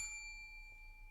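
A single bright bell ding rings out cleanly at the start and its pure tone fades slowly over about a second, alone in a quiet room.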